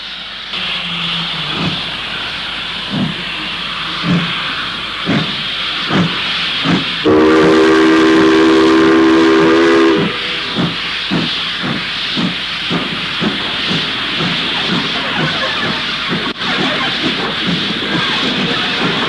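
Steam locomotive Oliver Cromwell working north on the railway with loud hissing steam and rhythmic, regular chuffing exhaust beats, interrupted by a sustained piercing whistle blast of about three seconds, close and powerful throughout.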